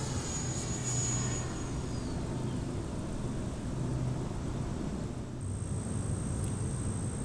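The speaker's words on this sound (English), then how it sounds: "We wanted to show you a faster high-speed pass when we gave the jet a bit more time to build speed." Electric ducted-fan whine from an E-Flite Viper 70mm EDF RC jet making a fast high-speed pass, a steady broadband rushing roar with a thin high tone that sweeps down as the jet goes by at distance, then a second high tone later.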